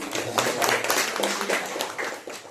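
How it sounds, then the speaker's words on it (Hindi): A Sunday church congregation claps loudly, a steady patter of many hands lasting a couple of seconds, with faint voices underneath. "जोरदार तालियां हैं"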